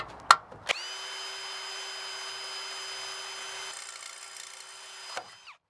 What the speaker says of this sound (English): Drilled out with the 1/8 inch bit.